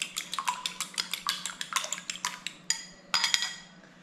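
A utensil whisks egg with salt in a bowl, rapid rhythmic clinking and scraping against the bowl wall, close and fairly loud, with a brief pause before a final burst of strokes.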